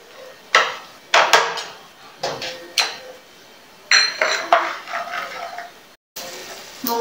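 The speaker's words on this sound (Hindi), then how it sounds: "बर्तन में तेल डालकर मूंगफली भून लेंगे।" Peanuts are stirred and roasted in oil in a metal pan while making a makhana snack, giving a series of sharp clattering knocks and scrapes of a utensil against the pan, close and loud in an irregular rhythm.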